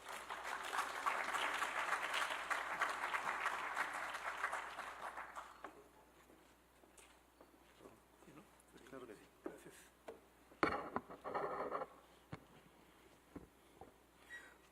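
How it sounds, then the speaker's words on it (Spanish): Audience applause at a symposium on artificial intelligence in science, technology and innovation, a loud sustained burst of clapping for about five seconds that fades out. A few scattered claps and faint room noise follow. "un aplauso."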